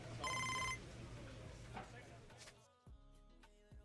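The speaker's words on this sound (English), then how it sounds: "Got a phone call." A phone rings in the baseball video game MLB The Show 25, a brief electronic ringtone burst that fades under game sounds and a talking voice.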